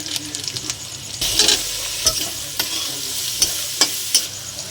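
Chicken masala frying in a pan with ground coriander, red chilli, Kashmiri chilli and turmeric, a steady hiss of sizzling oil broken by several sharp scrapes and clacks of a spoon stirring the spices, close and with no talk.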